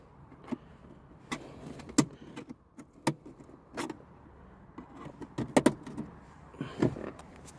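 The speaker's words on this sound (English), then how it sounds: "You'll hear little clicks as you're popping it up." Plastic trim tabs on a Honda Civic dash clicking as they pop loose, a series of sharp, close, irregular snaps spread across the stretch with quiet handling noise between.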